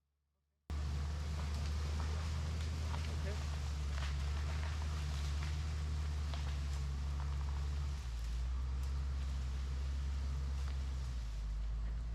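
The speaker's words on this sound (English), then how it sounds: "I'm skidding the tree out of here. This is a skidder." A log skidder works in a Texas pine logging site while dragging a felled pine tree, its engine a loud, steady low rumble that starts abruptly and drones on, with faint clunks and rustle over it.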